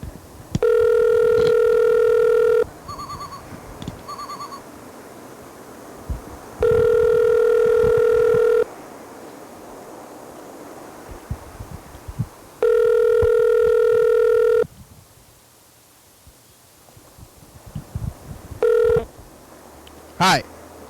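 A landline telephone repeatedly tries to connect a call, giving long steady tone bursts broken by short beeps and clicks over a constant hiss, as if the phone is struggling to get through.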